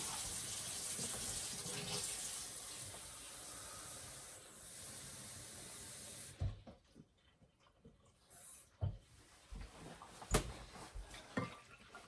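Water runs steadily from a hose for about six seconds, a loud continuous hiss and splash, then cuts off, leaving sporadic clunks and handling noises outdoors.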